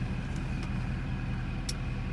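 A Chevrolet LB7 Duramax diesel truck engine idles just after starting, a steady low rumble and hum held close and constant, with faint higher ticks over it.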